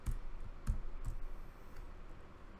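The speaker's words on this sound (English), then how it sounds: "Okay, back to typing" Keys clatter in short irregular bursts on a computer keyboard at a desk while a game is being worked on, soft and close, with no voices.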